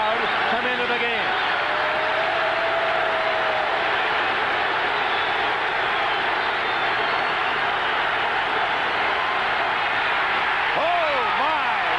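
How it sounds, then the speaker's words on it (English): A football stadium crowd at a 1982 Raiders at Chargers game roars in a steady, dense wash of cheering that fills the whole stretch, with a few whistles rising through the din. "now listen to this crowd come into the game"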